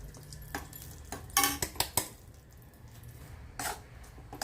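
A spoon stirs urad flour roasting in ghee in an iron wok, giving scattered scraping sweeps and metallic clinks in short bursts, close by and fairly quiet, with no talk.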